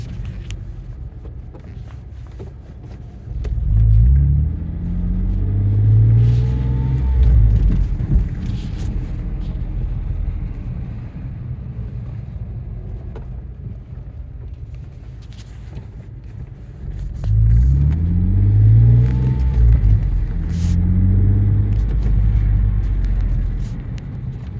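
A Ford Mondeo ST220 drives along with a loud, steady engine and road rumble, rising in pitch twice as it accelerates through the gears, with wind noise and no talking.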